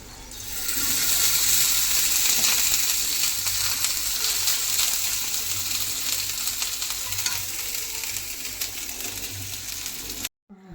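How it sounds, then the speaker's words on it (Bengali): Food sizzling and frying steadily in a pan on a gas stove, a close, continuous crackle and hiss that holds almost to the end before cutting out abruptly. "একটু ভাজা হোক তারপরে লাস্টে গ্যাসটা বাড়িয়ে ভালো করে লাল লাল করে নেবো চলো ভাজা হতে থাক"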